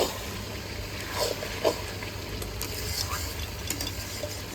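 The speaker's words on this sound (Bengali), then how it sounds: "এবার আমার কড়াই গরম হয়ে গেছে আমি এবার তেল দিয়ে" Oil hitting a hot kadai (wok) gives a steady, close sizzle and crackle, with a few faint metallic scrapes and clinks and no talk.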